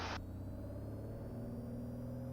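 A small plane's engine drones steadily as power comes in for takeoff, a close, constant rumble that holds level, opening with a brief burst of broadband hiss.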